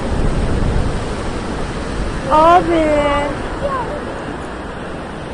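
Heavy sea surf pounds a stormy rocky coast in a broad, steady roar, with a brief louder surge as a person calls out over it.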